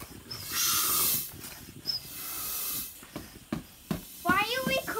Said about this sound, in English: Pumping the balloon up.